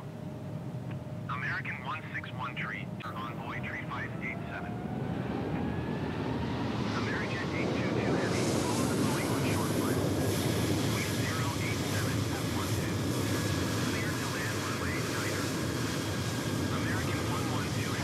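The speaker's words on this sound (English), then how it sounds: "the last thing we will see is this 787 depart runway 8 right" A Boeing 787 departs runway 8 right at Miami International Airport in Microsoft Flight Simulator 2020, its jet engines building into a steady, swelling roar as it takes off, with voices audible at times over the engine noise.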